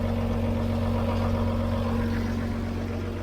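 Mercedes 1820 4x4 recovery truck diesel engine idling close by, a steady low throbbing hum with a constant tonal drone, alone and unbroken throughout.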